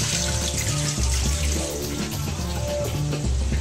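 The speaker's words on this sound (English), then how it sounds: "We're going to drain the water." Water from a freshly opened can of carrots drains out in a steady splashing pour that runs continuously at close range, with no talking over it.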